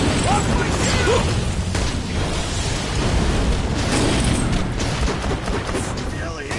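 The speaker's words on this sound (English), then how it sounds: "Grenade!" A grenade goes off during a firefight in Borderlands: The Pre-sequel, bursting loud and close amid continuous booming, crackling combat noise that fills the whole stretch.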